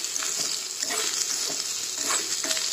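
Peanuts and onions dry-roasting in a pan, a soft steady hiss with light rustling stir strokes every half second or so, close and without talk.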